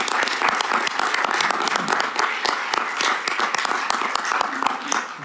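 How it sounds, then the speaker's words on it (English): Audience applause for a speaker at a research summit session, steady dense clapping from a seated crowd filling the whole stretch with sharp overlapping claps, moderately loud and continuous. "Let's give Tom a real round of applause"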